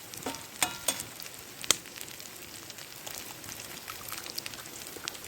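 Eggs frying in a pan on a wood stove at a wild camp in Scotland, a soft steady sizzle with a few sharp crackles and spits near the start, quiet and close.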